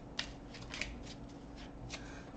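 Small oracle cards shuffled by hand, giving faint, soft papery riffles and a few light snaps in a quiet room, with no talking.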